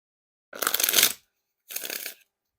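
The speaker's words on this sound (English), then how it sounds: "And now time for the Riffle Shuffle or Bridge Shuffle." Two quick riffle shuffles of a Red Streamline deck of thick-stock playing cards, a longer crisp ripple and then a shorter one, close and clear against silence.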